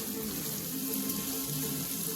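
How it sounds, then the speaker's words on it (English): Warm water is poured into a cooking pot on a stove, a continuous close, loud splashing rush that holds steady from start to finish with no talking. "Throw in my warm water into the pot."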